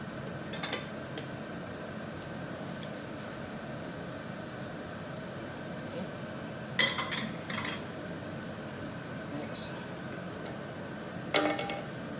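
A plate is pressed tight onto a pan holding a potato torta, giving a few faint metallic clinks and scrapes against a quiet, steady room background, with two sharper taps near the end.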